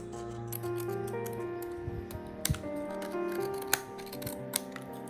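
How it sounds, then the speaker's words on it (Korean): Scissors cut blue paper for a paper Ghast craft, giving a few quiet, crisp snips over steady background music. "가스트 몸통 위에 파란 종이를 올리고 가위로 잘라가며 내려붙입니다"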